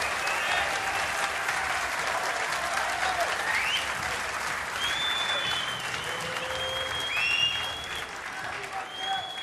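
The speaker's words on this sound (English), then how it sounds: "he gets a standing ovation from this Ali Pali crowd" A snooker crowd at Alexandra Palace gives a standing ovation at the Masters, with dense, sustained applause and a few whistles. A commentator speaks over the clapping.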